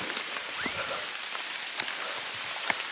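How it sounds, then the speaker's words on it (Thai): Heavy rain pattering steadily on leaves and surfaces during a forest walk on Doi Kha Mo, with scattered louder drops standing out from the dense wash. "แต่ฝนหนักอยู่ โอเคนะครับฝนตก"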